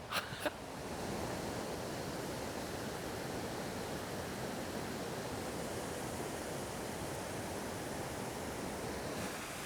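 Steady broadband rush of water pouring past a weir at Dobbs Lock, continuous and fairly loud throughout, with a few brief knocks at the start.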